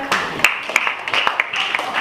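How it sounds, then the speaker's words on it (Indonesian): Students clap in a religious studies classroom, with sharp, uneven hand claps rising over a quieter murmur of voices. "Luar biasa, tepuk tangan."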